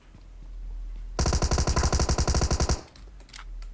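A close, loud burst of rapid automatic gunfire in PUBG Mobile rattles for about a second and a half as an even stream of shots, then stops abruptly, leaving quiet game ambience.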